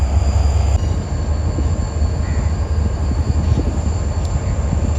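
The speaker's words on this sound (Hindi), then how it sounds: "प्लेटफॉर्म नंबर 2 पर आ रही है ट्रेन।" The Bahauddin Zakariya Express pulls into platform 2 at night, a continuous heavy low rumble of rolling wagons with rhythmic wheel thumps and a brief high squeal, loud and close throughout.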